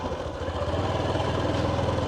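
A motorcycle engine idling on a rural farm road beside rice paddies, a steady low chugging rumble with a faint clatter, fairly close and continuous throughout.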